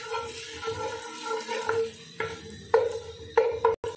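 Cardamom, cloves, cinnamon and a bay leaf are stirred in hot ghee, a soft sizzle under repeated spoon scrapes and metallic clinks against the pot, growing busier and sharper toward the end with one abrupt knock.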